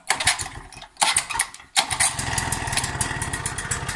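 Motostandard mower engine cranking in a couple of short bursts, then firing up and settling into a fast, steady putter, close and fairly loud.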